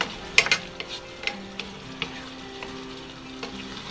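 Chicken masala sautéing in a pan, a steady close sizzle and frying hiss with a few sharp clinks of a spoon stirring against the pan, no talking.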